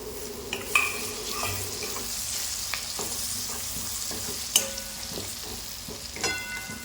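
Tomatoes go into a pan of vadi (sandge) vegetable curry, setting off a steady close sizzle of frying, with stirring scrapes and a few sharp clinks of a utensil against the pan.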